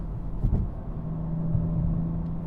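A 2023 BMW G80 M3 with a six-speed manual, rear-wheel drive and a lowered front suspension on Eibach springs drives over road bumps, giving a steady low engine and road rumble with a couple of soft thumps early on.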